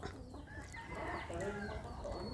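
A hen clucks near its chicks in a rural Philippine yard, with repeated soft, close, throaty clucks over a steady outdoor background.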